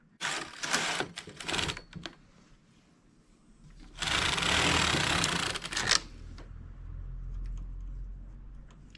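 A knitting machine carriage is run across the needle bed for the first row of a tubular piece, using a different colour yarn and tension setting 3 on both the machine and the ribber: two loud mechanical rattling passes with a quieter pause between.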